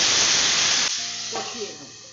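Raw pumpkin being sautéed with a splash of water in a Bengali ghonto sends up a loud, bright hiss of steam that cuts off sharply after about a second, followed by a quieter sizzle as a voice speaks.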